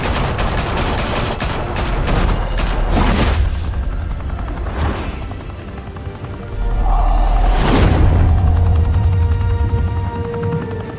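Heavy gunfire in the Batman: The Telltale Series game, sharp separate bangs and bursts scattered across the span over a steady rumbling background, with booming impacts near the end.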